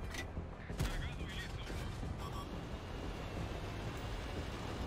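Gunfire in a video game: a few sharp shots ring out over a dense, steady wash of background game noise.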